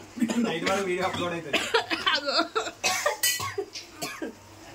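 Several harsh coughs break out amid chuckling and talking voices, close and loud, while chicken curry is being cooked.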